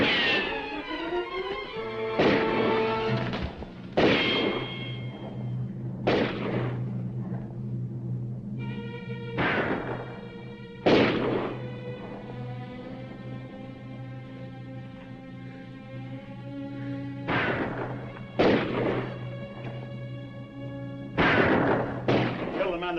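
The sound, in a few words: gunfire in a western film shootout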